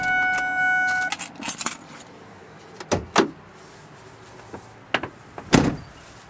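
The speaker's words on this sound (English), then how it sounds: "pop the hood for you" On a 1999 Ford 4x4 dually with a 7.3 Power Stroke, a steady door chime sounds briefly, then keys jangle, followed by several sharp, close thumps as the hood is released and popped.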